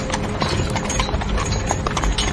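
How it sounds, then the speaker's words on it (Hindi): Horses pulling a carriage clip-clop at a steady walking pace, hoofbeats close and continuous over a low rumble of wheels. "आगे का रास्ता चढ़ाई वाला था, इसलिए घोड़े आराम से चल रहे थे।"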